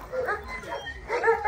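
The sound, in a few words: dogs barking at a zoo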